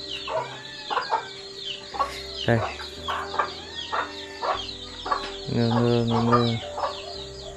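Chickens kept inside a rural house cluck and squawk repeatedly in an irregular, close chorus, with a louder run of clucking near the end and brief speech over them.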